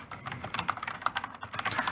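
Quick, uneven clatter of typing on a computer keyboard, close and fairly soft, with irregular bursts of keystrokes and no voices.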